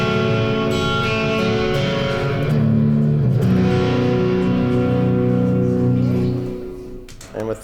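Clean electric guitar through a Vox AC amp, playing sustained ringing chords that swell slightly midway and then fade out.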